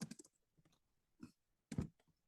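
Code is typed on a computer keyboard in a few quiet, scattered bursts of key clacks, close and isolated with near silence between the keystrokes.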